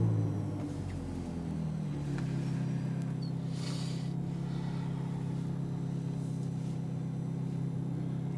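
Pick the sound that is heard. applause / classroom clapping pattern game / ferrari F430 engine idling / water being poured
ferrari F430 engine idling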